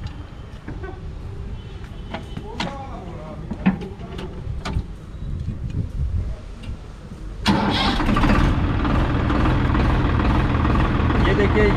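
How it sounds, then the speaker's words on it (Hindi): A 2021 Swaraj 963 FE tractor's diesel engine cranks and catches, then settles into a steady, loud idle close by; a voice talks under the mechanical noise before it starts. "हमने ट्रैक्टर चालू किया"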